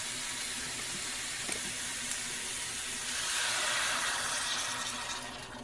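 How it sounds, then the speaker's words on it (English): Water pours steadily into a pan of beef barley soup with browned bits and onions, a continuous hissing gush that swells louder toward the end before easing off. "And I'm going to cover it with water."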